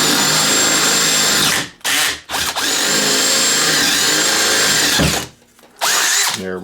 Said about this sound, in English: We're gonna go ahead and try to drill straight down into this.